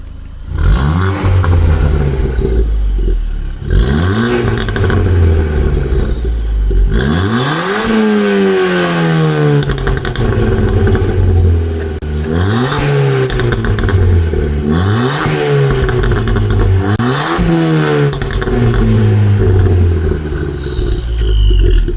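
A car engine revs hard again and again, each burst climbing and falling back through a loud, raspy Milltek sports exhaust, close and continuous.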